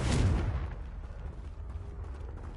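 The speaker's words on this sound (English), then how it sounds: "Confringo!" A Confringo blast spell cast in Hogwarts Legacy lands as a loud burst of fire at the start, then fades into a low rumble with faint creaking debris, and no one talks.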